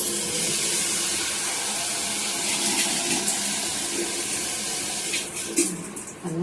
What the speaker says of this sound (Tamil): இப்போ இதில் தண்ணி ஊற்றிக்கிறேன்